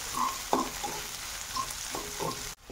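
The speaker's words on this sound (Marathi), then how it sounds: "याच्यामध्ये आपण आता कांदा टाकून घेणार आहोत। कांदा आपल्याला छान परतून घ्यायचा आहे।" Chopped onion sizzles in a pan over a medium flame while a spoon stirs it, giving a steady close hiss broken by repeated scraping strokes, ending in a sudden cut.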